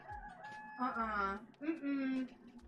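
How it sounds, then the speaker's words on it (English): A rooster behind a backyard shed crows twice in close succession, loud and near, each call a drawn-out, wavering cry with a short clucking lead-in, with no talk over it. "The rooster hanging out right behind my shed is not gonna fly."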